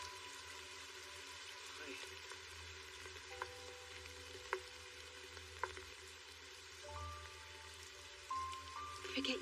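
Heavy rain pours down in an anime scene, a steady broadband hiss that continues throughout, with a few faint tones and soft ticks over it and no voices.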